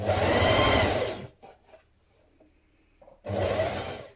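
Two short, close bursts of a sewing machine stitching a blouse seam, separated by a quiet pause with faint handling of fabric.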